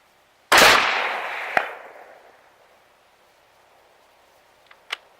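A single sharp .223 rifle shot firing a 55 grain FMJ round at a car hood 300 yards off, a loud crack with a long rolling echo, then a faint distant impact tick and two small knocks near the end.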